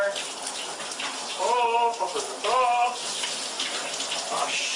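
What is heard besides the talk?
shower water running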